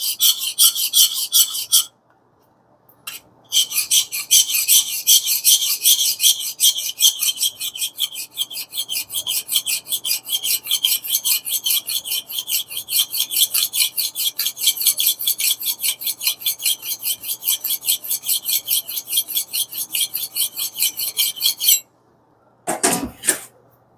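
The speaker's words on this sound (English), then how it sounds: "Just grabbing and putting it as flat as possible. Just a very small micro bevel to also help protect that edge. Going back and forth." A sharpening stone rubs back and forth along the edge of a small hewing axe in a fast, even rasping rhythm, close and loud, with a short pause early on and a break near the end.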